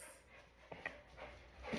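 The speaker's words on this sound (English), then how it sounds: "they're just barking at the birds" Dogs barking at birds, heard as a few short, faint barks and whimpers at a distance against a quiet room background.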